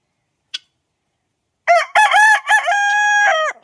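A rooster crows loudly and close by, one long harsh call, preceded by a brief faint click; no other birds stand out.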